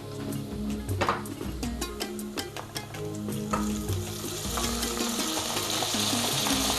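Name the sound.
stirring frying onions and mushrooms in a pot for egusi soup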